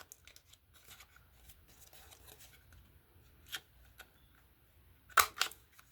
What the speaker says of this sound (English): I'll leave a little bit of that back there and just snip it.